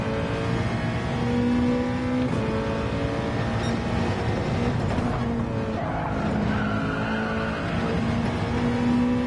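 Race car engine in a racing video game at Fuji, droning and revving steadily throughout with tires squealing and skidding through corners, loud and continuous.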